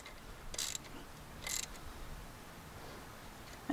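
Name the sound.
ratchet tightening BMW N54 spark plug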